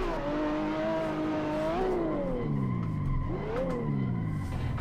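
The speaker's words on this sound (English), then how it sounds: "Wall scrape." Car scraping along a wall in the Assetto Corsa racing game during a long uphill drift, a continuous grinding scrape over a droning engine whose pitch dips and rises, loud and steady throughout.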